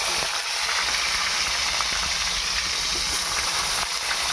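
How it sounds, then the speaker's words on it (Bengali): Onions sizzle in hot oil for a thin chicken curry, a steady close frying hiss and crackle that carries on with no break and no voices. "এবার তেলের ভিতরে পেঁয়াজ দেবেন"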